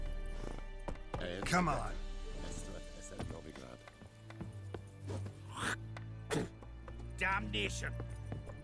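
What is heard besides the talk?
horse Roach galloping, clip-clop hooves in Witcher 3 video game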